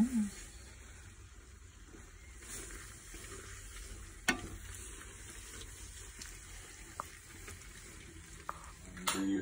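Creamy lemon pasta sizzles softly in a hot pan while being stirred, a faint continuous frying hiss with occasional light utensil clinks.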